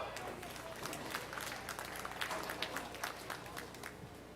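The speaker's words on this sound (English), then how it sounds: "Let's give those three showmen a big round of applause" Audience applause at a junior fair sheep show, steady moderate clapping from a crowd in a show ring, somewhat distant and continuous for several seconds.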